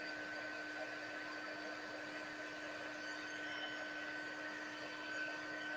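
A heat tool blows hot air over embossing powder on a stamped image, making a continuous, even fan-like whoosh with a steady whine and no talk.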